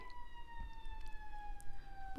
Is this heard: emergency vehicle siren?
yes